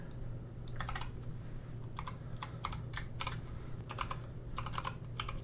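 Keys clatter on a computer keyboard while code is typed, in several quick bursts of clicks separated by short pauses, close and steady over a low constant hum.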